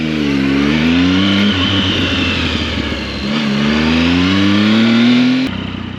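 Triumph Speed Triple motorcycle engine fitted with a K&N air filter, revving up from idle with a rising then falling engine note, close and loud and continuous, cutting off abruptly near the end.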